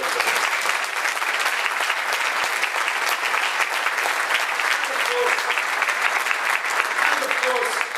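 Sustained applause from a large indoor audience at a political talk, a dense, loud, even roar of clapping that runs without pause and with no speech over it.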